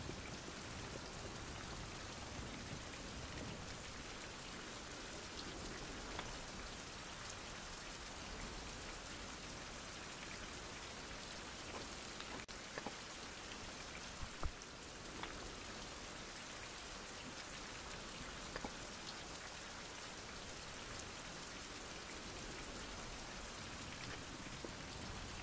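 Steady rainfall in a survival video game, a constant even hiss of drops filling the whole stretch with no pauses, soft and uniform throughout.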